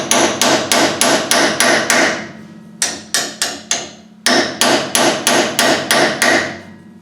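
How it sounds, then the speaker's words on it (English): Air chisel hammering on a snapped bolt, loud rapid bursts of sharp metallic impacts in three runs with short pauses between, close up and alone. "Another trick we could use is the air chisel"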